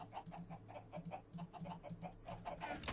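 Chickens in the Minecraft video game cluck in a steady repeating pattern of short, soft calls, faint and evenly spaced, with no speech over them.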